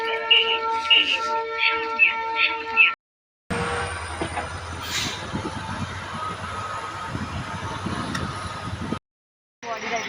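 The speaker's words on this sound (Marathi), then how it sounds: "ट्रेन आली" The Dadar–Sawantwadi Tutari Express rumbles into Savarde station with a steady low roar and metallic rattling, preceded by a brief musical chime, with short silent breaks.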